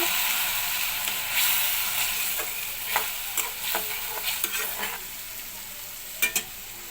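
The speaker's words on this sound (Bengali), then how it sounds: "এখন এর মধ্যে দিয়ে দেবো আমি সামান্য পানি" Fried onions sizzling in a pan as water goes in, a steady hiss with a spoon scraping and clinking in uneven strokes, no talk.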